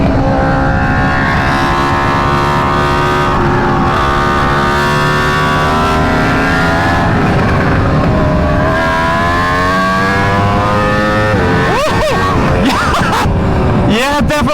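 An Aprilia RSV4 sport motorcycle accelerates hard in second gear, its loud engine note rising steadily in pitch for several seconds, close and continuous, with a brief shift or throttle change near the end.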